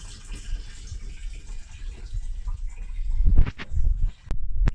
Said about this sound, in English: Just open this and the water is coming in.